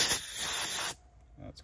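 Compressed air blown through the carburetor priming tube of a Troy-Bilt pressure washer, a loud steady hiss for about a second that cuts off abruptly, followed by quiet with faint soft sounds.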